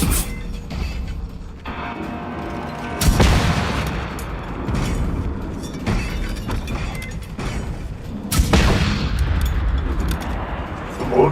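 A launcher fires in the survival shooter Generation Zero, with two heavy booming blasts a few seconds apart over constant rumbling, mechanical game noise. Each blast is loud and fills the whole range.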